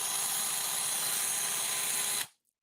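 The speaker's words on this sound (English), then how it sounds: "is the Tack Right Mini Chainsaw." A Tack Right handheld mini chainsaw runs with a steady, loud, high-pitched buzzing whine for about two seconds, then cuts off abruptly into silence.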